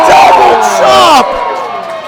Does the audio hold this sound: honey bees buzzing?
no